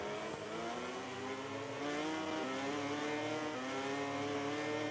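A MotoGP motorcycle in MotoGP 20 pulls away with a loud, rising high-revving engine whine, its pitch climbing steadily through several gear steps with no talk over it.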